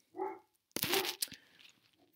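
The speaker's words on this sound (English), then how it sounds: "And I apologize for the dogs." Dogs give a short muffled bark, then a louder, sharper bark after a brief pause, followed by fading, whimpery sounds, all fairly close.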